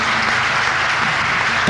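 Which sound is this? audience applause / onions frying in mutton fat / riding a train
audience applause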